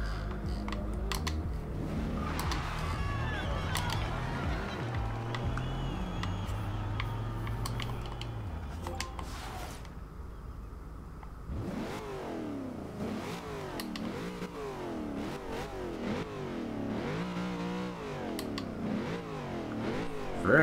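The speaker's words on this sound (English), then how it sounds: "Very nice sounding car." A 2014 Chevrolet Corvette Stingray in the Forza Horizon 2 racing game revs and accelerates through gears, its engine note rising and falling repeatedly, with loud keyboard typing clattering over the first half.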